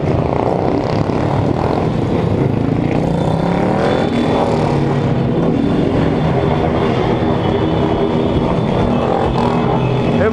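Many motorcycles revving and passing in a dense group during a street ride in São Paulo's east zone, a continuous loud engine roar throughout with shifting pitches as bikes accelerate nearby.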